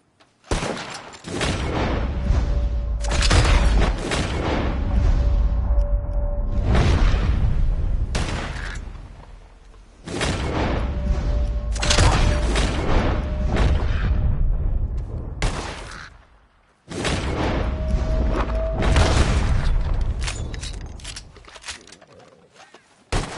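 Gunshots in the game Red Dead Redemption 2 as birds are shot out of the sky: clusters of loud, close rifle and pistol shots come in several long volleys, broken by brief quieter gaps.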